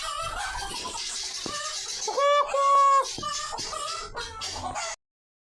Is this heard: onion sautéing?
no